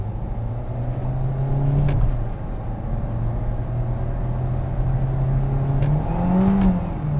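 A 2022 Kia Seltos engine in manual drive mode revs steadily upward toward redline, a loud continuous rising drone that dips briefly before climbing again near the end, with no one talking.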